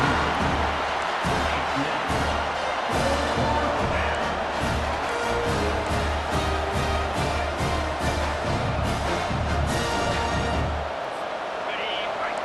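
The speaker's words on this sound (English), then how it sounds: "this crowd is coming to help the defense" Large football stadium crowd roaring steadily through a late-game 4th down in a Penn State vs Auburn matchup, a loud continuous wash of cheering with rhythmic swells and a commentator's voice running over it.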